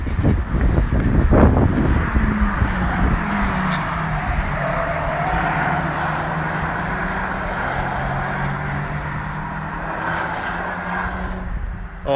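Honda Civic Type R cars on a race track, a steady engine drone heard from trackside, rising and falling gently as cars pass, with gusts of wind buffeting the microphone.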